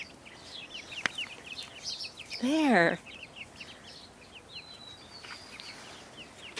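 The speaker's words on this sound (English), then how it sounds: "Hello, chickies." Chickens in a pen give a loud, close burst of clucking calls lasting under a second, set among faint scattered chirps and a quiet backdrop, with a brief spoken word nearby.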